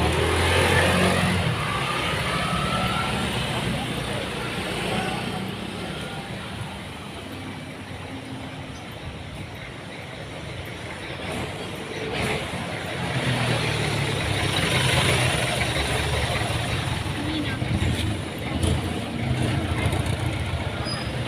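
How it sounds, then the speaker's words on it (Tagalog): Jeepneys and other vehicles pass along a street in Palasan, Valenzuela City, making a continuous broadband rumble of engines and tires that swells and eases as they go by. "Yan po, maraming jeep."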